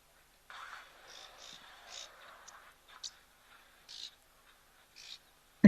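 Orange-breasted bush shrike calling in African bush, a series of short, clear whistled notes spaced irregularly, fairly faint against a quiet background, ending with a sudden close knock.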